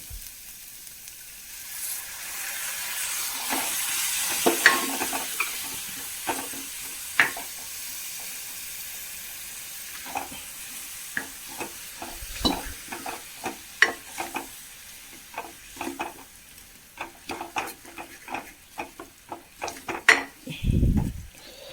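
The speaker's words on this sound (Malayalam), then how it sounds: "നമുക്ക് ഇതിലേക്ക് പാൽ വെച്ച് കൊടുക്കാം. തേങ്ങാപ്പാൽ വെച്ച് കൊടുക്കാം." Coconut milk goes into hot oil in a pan for a breakfast dish, raising a bubbling sizzle under repeated clinks and scrapes of a spoon stirring against the pan, close and busy throughout.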